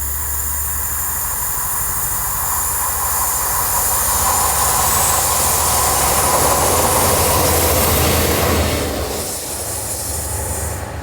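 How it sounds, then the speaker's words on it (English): A rescue train engine from Plymouth's Laira depot runs loud and near through the night, with a steady rumble, rail noise and high wheel squeal that eases slightly near the end. "this rescue engine has been sent from Plymouth's Lara depot to go and rescue the"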